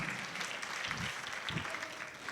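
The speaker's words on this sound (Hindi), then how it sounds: "सही जवाब, जोरदार तालियां आशा ग्रुप के लिए।" An audience claps for a correct answer at a spiritual antakshari quiz held by a women's association, a continuous, fairly close round of applause with a few louder claps standing out.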